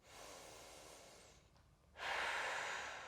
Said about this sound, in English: Take a couple of nice, deep, full body inhales and exhales.